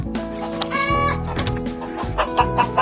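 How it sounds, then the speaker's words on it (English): Hens clucking close by in a backyard coop, a steady run of overlapping clucks and squawks from several birds with a few louder, higher calls mixed in. "So this is Marigold, my bad chicken."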